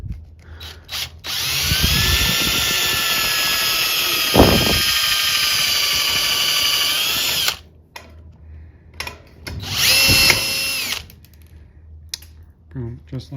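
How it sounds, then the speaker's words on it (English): Power drill boring through the head of a solid rivet during an Airstream endcap rebuild, a loud sustained high whine for several seconds, then a shorter second burst, with brief clicks and a voice between runs. "we drilled a hole directly through the head of that solid rivet"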